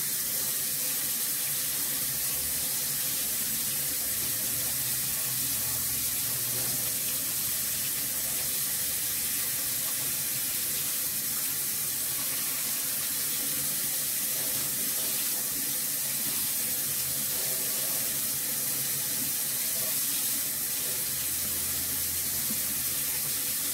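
An antique iron is rinsed under a running tap after a vinegar soak, giving a steady, loud, close splash of water into a sink that carries on for the whole stretch with no talking.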